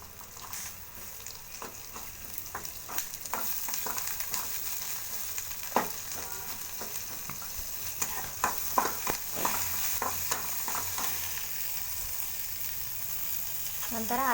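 Flattened rice (avalakki) being sautéed with black salt in a pan sizzles with a steady hiss, broken by frequent scraping and tapping stirs of the spoon against the pan, growing a little busier toward the end.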